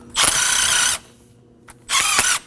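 A hub cleaner tool grinds rust from around the wheel studs on the front hub of a 2011-2016 Kia Optima during a brake job, two loud raspy bursts of under a second each with a faint click between.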